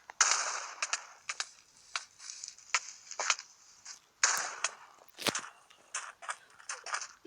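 Gunshots in a zombie video game, a series of sharp snappy cracks at irregular intervals, some in quick pairs, fairly close with quiet gaps between.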